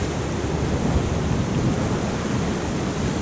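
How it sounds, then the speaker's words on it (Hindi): Big ocean waves at Tangalle Beach, Sri Lanka, roar as a continuous broadband wash of surf, loud and close, mixed with wind buffeting the microphone. "कितने बड़े बड़े वेव्स आ रहे हैं।"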